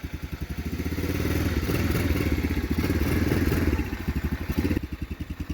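A Chinese ATV engine running in first gear after a carburetor cleaning, a rapid loud pulsing putter with clattering mechanical noise that swells briefly, then eases back to a steadier chug.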